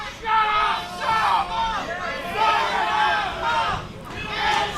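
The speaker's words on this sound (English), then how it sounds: "the crowd letting them know exactly how they feel about Path to Clarity" A wrestling crowd at a Heatwave show jeers the Path to Clarity faction, loud surging boos and shouting rising and falling in waves while a commentator talks over it.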